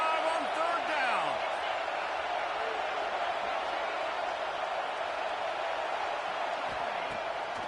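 A steady, dense roar from the Ohio State home crowd fills a college football video game matchup against Nebraska, holding at an even level throughout with no pauses.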